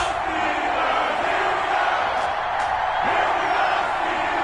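A stadium crowd in an EA Sports NFL video game roars steadily as the Baltimore Ravens and Pittsburgh Steelers line up, a dense continuous cheer with scattered whoops and no gaps.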